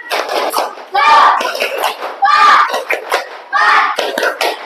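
Schoolchildren in a classroom chant 'tepuk semangat' in unison with rhythmic hand claps, loud and close, the shouted syllables and sharp clap bursts repeating in short groups across the chant.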